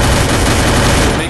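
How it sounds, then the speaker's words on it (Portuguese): Dense, continuous gunfire from the Free Fire video game, a loud unbroken burst of rapid shots filling the moment with no pause. "Tiro."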